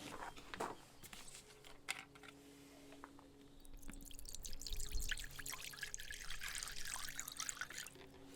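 Methylated spirits are poured into a container to dissolve shellac, a quiet close liquid pour and trickle that builds midway, with scattered handling knocks and clinks around it.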